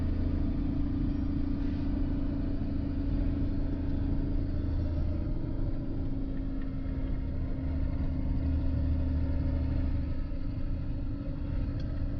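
A converted camper truck named Hector drives along a road in the Basque Country, a steady low engine drone and road rumble heard from inside the cab, with no talk.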